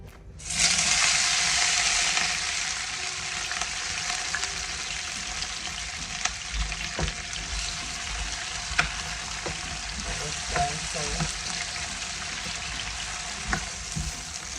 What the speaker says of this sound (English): So now I'm going to saute these vegetables.